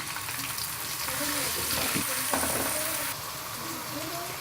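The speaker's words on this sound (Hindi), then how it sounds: "अब हम इसमें प्याज डाल देंगे और इनको सौटे करेंगे।" Onions hit two spoonfuls of hot ghee and fry with a dense, steady sizzle close by. Faint stirring clatter comes through, and a voice speaks briefly underneath.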